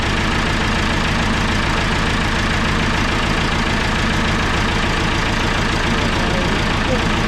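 A David Brown 996 tractor engine runs at a steady idle throughout, a continuous close, loud diesel rumble with even low-frequency pulsing and no breaks.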